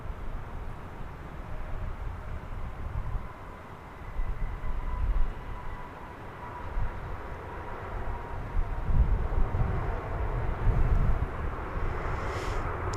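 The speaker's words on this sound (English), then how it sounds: "There's Alaska Airlines. That's a MAX 9 going" Alaska Airlines Boeing 737 MAX 9 airliner at DFW Airport, a steady distant engine roar with low rumbling swells, heard from outside without speech.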